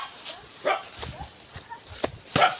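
A dog barks outdoors with a few short, sharp barks scattered over a couple of seconds, fairly close, amid background noise and possible footsteps.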